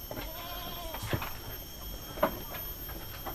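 Young Jawa Randu billy goats penned at a goat fattening farm, two short bleats rising above a steady low background hum, moderately near and spaced about a second apart.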